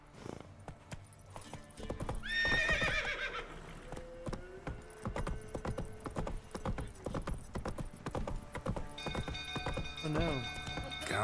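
Horse hooves clip-clop in a steady rhythm in The Witcher 3, with a loud neigh early on and a voice speaking briefly over the game sounds.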